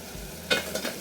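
A masala sauce with Royco cubes fries in a pan and is stirred, giving a soft, continuous sizzle broken by two brief scraping strokes of the spoon, close by and without speech.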